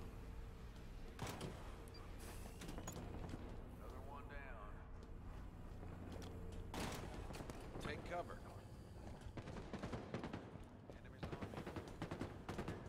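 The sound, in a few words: gunfire in Halo Infinite, a video game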